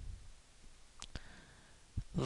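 Computer mouse clicking on a Windows XP desktop, two sharp quick clicks close together, quiet and near, followed by faint soft handling noise.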